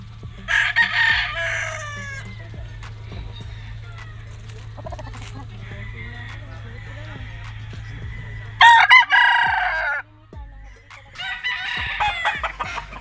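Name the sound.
yellow-legged gamefowl rooster crowing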